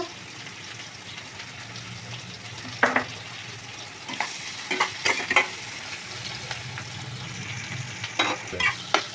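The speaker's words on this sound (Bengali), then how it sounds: "লাল লাল করে ভাজা হবে" Chopped onions with turmeric and salt fry in a pan for hilsa fish biryani, a steady close sizzle punctuated by sharp, irregular scrapes and knocks of a stirring spatula.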